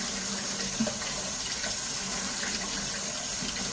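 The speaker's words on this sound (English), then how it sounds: "Let me put a little more water in here." Water runs steadily from a kitchen tap into a container of fresh cabbage, a continuous close hiss and gush with no talk.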